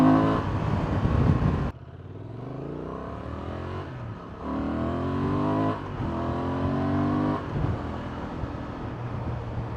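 A 2024 Honda Transalp 750 motorcycle engine pulls through several rising acceleration runs, each climbing in pitch before a brief dip at a gear change, loud and close with steady wind rush.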